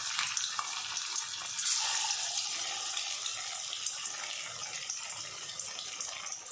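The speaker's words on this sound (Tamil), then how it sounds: "எண்ணெய் சூடாகிட்டு நம்ம மசாலா தடவி வச்ச மீனை உள்ளே சேர்த்துடலாம். அடுப்பை மிதமான தணலில் வச்சு நம்ம பொரிச்சு எடுத்துடலாம்." Masala-coated fish frying in hot oil over a medium flame, a steady bright sizzle and crackle that continues evenly throughout at moderate volume.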